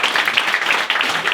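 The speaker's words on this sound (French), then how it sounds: "Applaudissez-la s'il vous plaît" A short, dense burst of applause from a theatre audience at a French comedy stand-up show, many hands clapping at once for about a second and a half.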